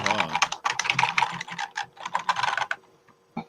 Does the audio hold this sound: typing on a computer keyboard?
yes